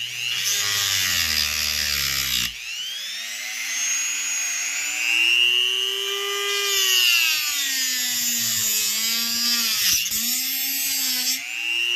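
A power drill bores into McCulloch SP125 chainsaw parts, giving a loud, close, high motor whine that rises and dips in pitch as the bit loads and frees, with brief stops and restarts. Nobody speaks.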